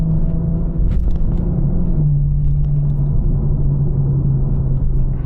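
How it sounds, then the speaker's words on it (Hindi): A steady, low engine rumble from a BMW M340i in sport mode, with an even droning hum, close and continuous, with a slight shift in pitch about two seconds in. "अभी मैंने इस गाड़ी को स्पोर्ट्स मोड में डाल रखा है और इसीलिए गाड़ी पॉप्स एंड बैंग्स"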